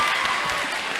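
A short burst of audience applause at a school health talk, dense clapping from a roomful of students sustained at an even level for about a second.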